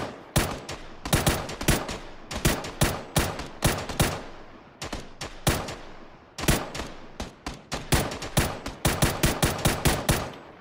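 Gunfire in PUBG, rapid bursts of loud, sharp automatic shots in quick repeated volleys with brief pauses between them, close and dominant with no voices.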